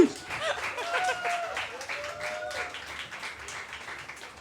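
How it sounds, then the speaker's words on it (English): A small audience at a tech event applauds for a guest, a scattered patter of claps that rises and then thins out over several seconds. Light voices and a little chatter sit underneath. "Let's give her a round of applause."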